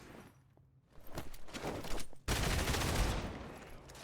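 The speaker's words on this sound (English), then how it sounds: "Gunshots are really loud for some reason." Rapid gunfire from a superhero brawler video game, a sharp burst of shots followed by a loud, dense sustained volley that stays harsh and prominent before easing slightly.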